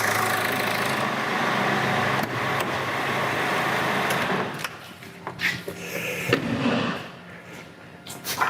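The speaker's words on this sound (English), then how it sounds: "engine running, nice diesel knock" An LS MT3 35 diesel tractor engine idles with a steady low rumble and knocking rhythm for several seconds, then sharp clicks and irregular thuds break in as it sputters, surging and running rough.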